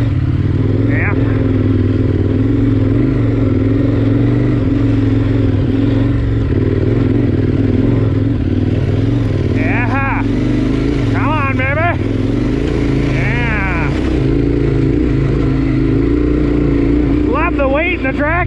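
A Yamaha Tenere 700 adventure motorcycle riding off-road on rough terrain, its engine droning loudly and steadily up close with occasional revs, clatter and wind buffeting, while a rider talks over it.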